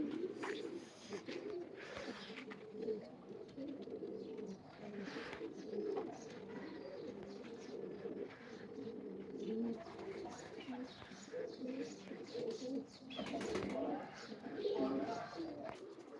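Pigeons cooing, a female kept by a breeder, soft repeated low coos close by with faint chirps and background murmur throughout.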